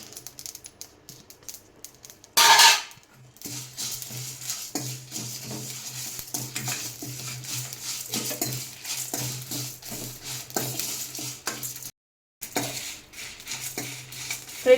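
Cumin, pepper and curry leaves being sautéed in a pan, heard as steady clinking and scraping of a spoon against the pan with a soft sizzle underneath, one louder clatter early on and a brief pause near the end; nobody speaks.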